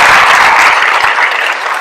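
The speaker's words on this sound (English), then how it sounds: "Let's do a round of applause for that" A banquet crowd at a wrestling awards night gives a loud, dense round of applause. The clapping stays strong and continuous for the whole short stretch.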